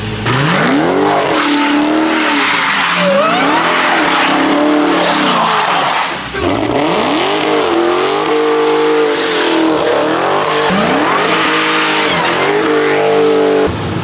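A Dodge Hellcat in SRT mode spins donuts on a wet road, its supercharged engine revving hard in repeated rising and falling surges with tire squeal and spray, loud and close throughout with no talk.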